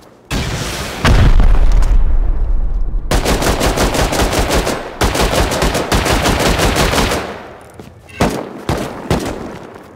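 AK rifle fire in a video game, loud close bursts of rapid automatic shots with a heavy boom near the start, then sustained rattling volleys and a few shorter bursts toward the end.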